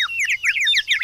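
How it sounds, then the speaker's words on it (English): A little cartoon bird sings a bright, rapid run of high chirping notes that fill the full second without pause, with no talk over it. "He's such a nice little bird, Teddy's. But I wonder why he stopped singing"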